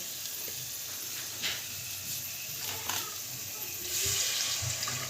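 Water is poured into cooked, fried-down masala for duck egg kosha, giving a quiet, steady hiss and trickle with a few faint sizzles and a slightly fuller rush near the end.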